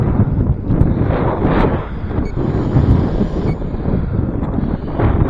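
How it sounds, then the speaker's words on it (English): Heavy wind buffets a drone's microphone with continuous low rumbling and gusty roaring, loud and close throughout, with no voices. "It's a bit windy."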